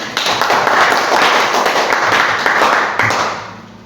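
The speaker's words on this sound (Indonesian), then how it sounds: "Terima kasih untuk kelompok satu, kita beri tepuk tangan." Classmates give group one a round of applause, a loud, close burst of many hands clapping in a classroom that holds steady for a few seconds and then tapers off.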